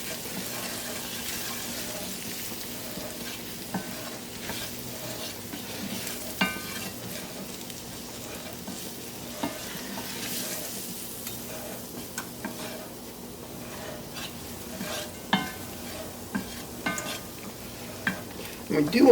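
A spoon stirring flour into gravy in a hot pan, soft scraping strokes repeating over a steady low sizzle, close and moderately quiet throughout.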